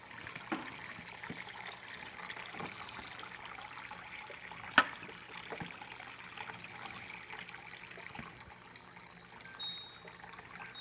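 Water trickles from a fridge-door dispenser into a pitcher, a soft steady dribble that runs throughout at low level, with a brief knock partway through and no speech.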